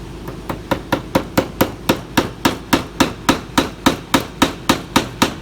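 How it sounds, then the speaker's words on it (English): Steel pins are tapped into a magnetic chuck on a surface grinder attachment for a KMG belt grinder: about twenty sharp metallic hammer taps at a steady, even rhythm, close and clear, with no talking. "These pins simply tap in, and then that pin can be used to hold the workpiece to keep it from sliding off the back of the chuck."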